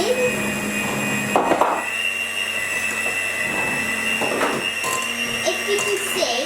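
Electric mixer whisking cake batter for triple chocolate brownies, a steady close whirring hum that runs throughout with small shifts in pitch as the beaters turn, and a voice now and then under it.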